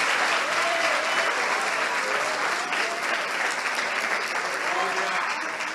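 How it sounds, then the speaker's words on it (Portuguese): Church congregation applauding together, a dense, steady wash of clapping that stays loud and continuous for several seconds before tapering slightly at the end. "você pode aplaudir ao Senhor pela sua palavra agora, mas com vontade"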